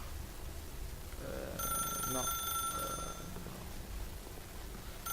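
A phone in The Stanley Parable rings once with a bright, steady electronic tone lasting about a second and a half, loud over a background of game ambience and faint talk.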